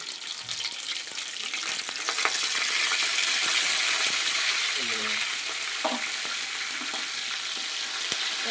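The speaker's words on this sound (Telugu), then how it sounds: "ఇప్పుడు 2 పచ్చిమిర్చి వేసుకున్నాం. చూసారా ఎలా వేస్తున్నాయి." Green chillies and curry leaves sizzle loudly and continuously in hot oil close by, with a few soft clinks and a brief faint voice in the background.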